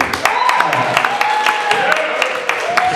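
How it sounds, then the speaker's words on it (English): Comedy club audience giving a round of applause, sharp sustained clapping from many hands with scattered cheers, loud and close, continuing unbroken. "Give me a round of applause"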